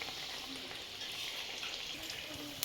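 Masala vada bubble and fry in hot oil over a medium flame, a dense, steady crackling sizzle heard up close with no talking.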